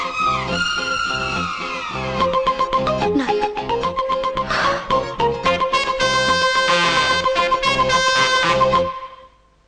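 A bright electronic melody plays in repeating tonal phrases, loud and close, like a musical phone ringtone, then fades out at the end.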